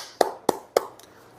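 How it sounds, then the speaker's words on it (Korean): Hand claps during a billiards lesson: three sharp, close claps at an even pace, followed by a fainter fourth, with no talking. "그렇다면 박수 한 번만 쳐주세요"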